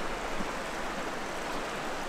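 A river flowing alongside an RV park on the Olympic Peninsula, a steady broadband rush of moving water, close and continuous with no voices.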